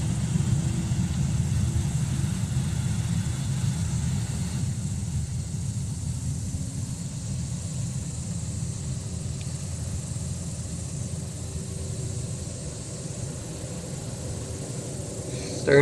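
A simulated Boeing 787-9 engine in China Eastern livery starts up in the Project Flight game, a steady low rumbling drone that holds at an even level throughout with no talking.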